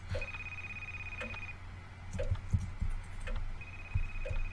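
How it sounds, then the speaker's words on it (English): In the indie horror game Night Blights, a phone rings with a thin, steady electronic tone that starts, stops, and starts again, over low game ambience and scattered soft clicks and thumps. "Why is the phone ringing?"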